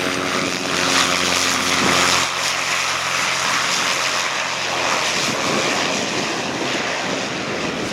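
Bush plane in the Alaska wilderness carrying a harvested moose out, its propeller engine droning loud and close at first, then thinning into a steady rushing drone as it pulls away.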